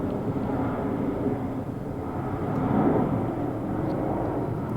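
Alaska Air airplane flying overhead, a steady low broadband engine rumble that swells slightly toward the middle and holds, with no talk.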